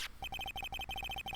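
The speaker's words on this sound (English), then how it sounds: "The phone that just rang wasn't mine." Cell phone ringing in the Phoenix Wright Ace Attorney game, a bright electronic ringtone of quick repeated beeping notes in a steady pattern, clear and alone.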